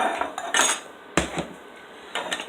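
Metal muffin pan being handled, with clattering and scraping metal knocks in a few bursts and one sharper clank.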